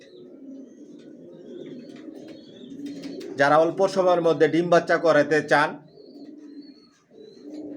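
Racer pigeons in a loft holding hundreds of birds coo softly and steadily in the background, while someone talks loudly over them through the middle of the stretch.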